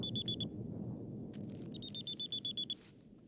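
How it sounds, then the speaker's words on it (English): A futuristic high-tech phone rings with bursts of rapid, bright electronic beeps, one short run and then a longer one, over a low background rumble. "so his weird high-tech phone rings."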